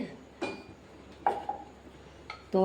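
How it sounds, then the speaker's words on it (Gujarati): A spatula scraping and tapping against a pan while lifting wheat biscuits into hot oil, a few separate metallic clinks and scrapes, close and fairly quiet, with no voices. "આ રીતે આપણે તવીથાની મદદથી લઈ લેશું અને આમાં મૂકતા જઈશું"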